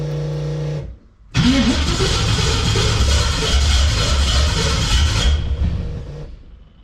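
A car engine running a Holley Terminator X fuel injection system on a cold start: a short cranking sound, a pause, then the engine catches and runs loud and steady at a rough idle for several seconds before cutting out.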